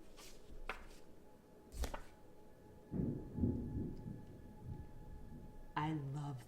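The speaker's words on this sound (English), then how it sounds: "Did you guys hear that thunder?" Low thunder from a thunderstorm rolls and rumbles in a couple of deep swells, fairly distant and muffled, while a person talks in between.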